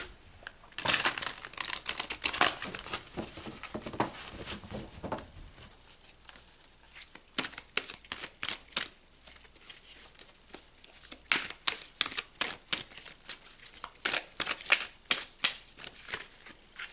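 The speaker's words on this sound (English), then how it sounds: "let's pull some more cards" Tarot cards are shuffled and handled for a Cancer reading, giving a dense, rapid riffling patter for the first five seconds and then a run of sharper, separate card snaps and slaps, fairly close and with no talk.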